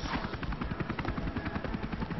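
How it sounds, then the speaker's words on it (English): A helicopter in the video game Backyard Baseball gives a steady, loud, rapid rotor chop that runs throughout without any voices. "Ooh, helicopter."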